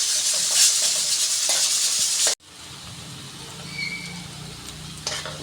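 Onions, cumin and curry leaves frying in hot oil: a loud bright sizzle that cuts off abruptly, then a quieter, lower frying hiss with soft stirring, close up and with no voices.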